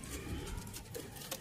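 Sialkoti pigeon cooing close by, a brief soft coo over low background rustle.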